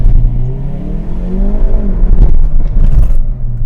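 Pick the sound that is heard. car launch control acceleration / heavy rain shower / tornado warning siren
car launch control acceleration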